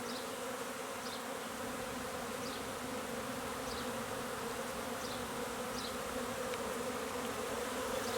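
Dense swarm of honeybees buzzing loudly and steadily around an open hive during spring oxalic acid varroa mite treatment, a continuous drone with individual bees zipping close by now and then.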